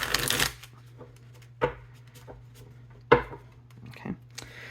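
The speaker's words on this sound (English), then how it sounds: "So let's get one more good shuffle here. This deck's being a little resistant right now." A tarot card deck is shuffled in short riffling bursts: a long burst at the start, then several brief sharp riffles, close and fairly quiet over a steady low hum.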